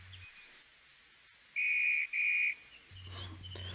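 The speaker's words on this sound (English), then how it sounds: "That's the whistle from my guard, Robert." A train guard's whistle gives two sharp, shrill blasts in quick succession, loud and clear against a quiet background with faint low rumbling around them.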